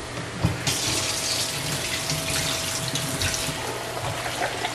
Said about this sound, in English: So I'm gonna add the water first.